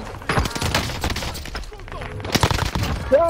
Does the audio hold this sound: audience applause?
no